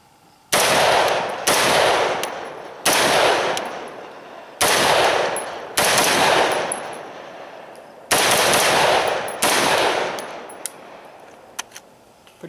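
Rifle shots from a Bushmaster AR upper firing X-TAC 62 grain green-tip steel penetrator ammunition, seven loud, sharp reports spaced one to two seconds apart, each with a ringing tail, outdoors with no talking.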